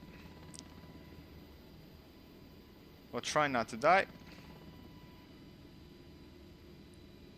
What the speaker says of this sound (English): So here we are in a helicopter flying relatively low.